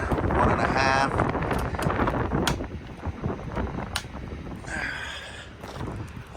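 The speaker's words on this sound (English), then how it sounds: "Oh man, this wind gets you." Wind buffets a trucker outdoors at a loading site, a steady loud rushing roar across the microphone with brief rattles and flutters, and no speech over it.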